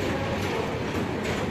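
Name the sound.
train hauled by WAP-9 electric locomotive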